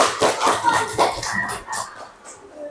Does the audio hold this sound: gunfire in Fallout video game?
no